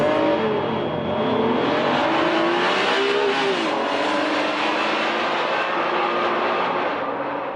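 A Honda NSX-R sports car with titanium connecting rods drives along a country road, its engine loud and close, pitch climbing and dropping through gear changes in a continuous high-revving wail with no talking.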